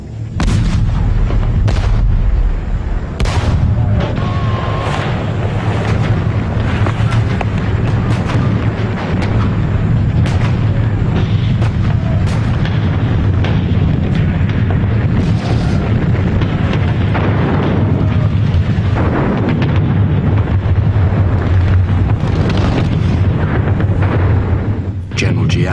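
Artillery bombardment in the assault on the French stronghold of Điện Biên Phủ, a continuous loud barrage of booming blasts and explosions with rumbling low thunder throughout.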